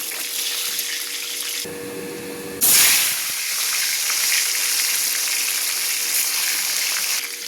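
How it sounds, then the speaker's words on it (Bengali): Fish frying in hot oil gives a steady, loud broadband sizzle that runs throughout, with a brief quieter patch and then a sharp surge of spitting as more oil or fish hits the pan. "মাছ ভাজা হয়ে যাচ্ছে।"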